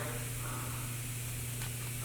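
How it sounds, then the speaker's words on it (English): Continuous airy hiss of drywall texture sprayed upward onto a hat channel ceiling, steady and moderately close over a low hum, with no pauses. "I will be spraying it from this angle, just because I don't want overspray on the wall"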